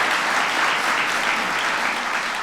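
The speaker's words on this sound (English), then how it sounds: "Lamar a big round of applause." A crowd applauds a senator at a presidential precision medicine event, with sustained, even clapping that stays loud and continuous from start to finish.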